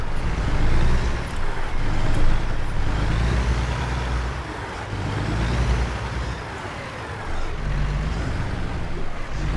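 A heavy truck slowly reverses a trailer in American Truck Simulator, its engine giving a steady low rumble with shifting road-noise swells that rise and ease without any voices.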